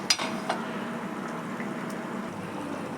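Tamarind fish curry seasoned with salt and brought to a rolling boil in a covered pot, with a soft continuous bubbling and one or two light clinks near the start.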